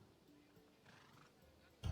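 A horse in a video game whinnies at a horse trader's, heard as a faint, quiet backdrop that ends in a short, loud burst of sound.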